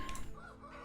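Chickens in a farming video game give a brief burst of clucking, a short fowl call heard alone for under a second.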